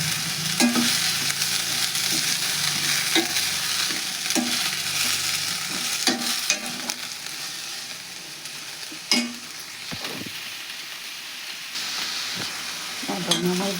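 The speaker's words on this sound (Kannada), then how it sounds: "ಇದನ್ನು ಎಲ್ಲ ಇದ್ರಾಗ ಮಿಕ್ಸ್ ಮಾಡಿ ಫ್ರೈ ಮಾಡೋಣ್ರಿ." Washed dill leaves fry in hot oil with a spice tempering, a soft continuous sizzle punctuated by regular scraping stirs of a spatula against the pan.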